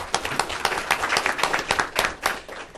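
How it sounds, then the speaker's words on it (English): Scattered clapping from a small audience at a talk on U.S.-China clean coal technology cooperation, a few hands beating in an uneven, moderately close patter for a few seconds. "let's applause for this man."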